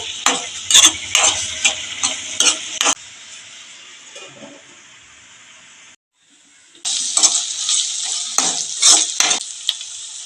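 Ginger-garlic paste frying in a pan for village-style gongura paneer curry, a spoon scraping and stirring in quick rhythmic bursts over a sizzle, pausing briefly before the stirring resumes.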